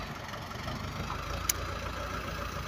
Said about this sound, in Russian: Эх, классный трактор.